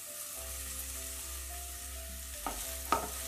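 Steady sizzling of chicken frying in a pan, with a couple of short scraping stirs near the end; no talking.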